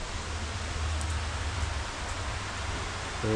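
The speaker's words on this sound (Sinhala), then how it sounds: "හොඳටම වහිනවා" Heavy rain pours steadily on a villa in Belihuloya in a dense, even hiss with no break, and a brief low tone enters at the very end.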